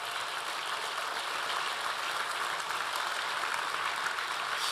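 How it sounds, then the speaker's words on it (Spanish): A church congregation breaks into sustained applause during a Spanish-language sermon, a steady, even wash of many hands clapping with no voices over it. "Denle un aplauso a Dios si lo va a hacer."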